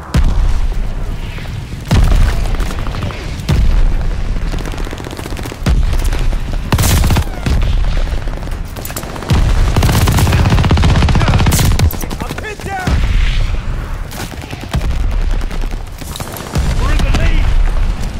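Mortar shells pound down in a sustained barrage of heavy booming blasts and crackling debris in Call of Duty: Vanguard, loud and close, with shouted voices mixed in.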